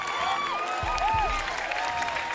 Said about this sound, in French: Une décision applaudie par la majeure partie des manifestants